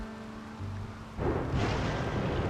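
Steady rain falls outside in a survival video game, a continuous soft hiss that swells louder partway through, with no talking over it.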